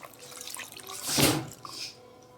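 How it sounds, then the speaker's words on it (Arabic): Water poured from a container onto bulgur and salt in a bowl while preparing dough, a soft trickling pour that swells into a brief fuller splash near the middle, then fades. "ضفنا الملح وهسه نضيف المي عليه نعجنه"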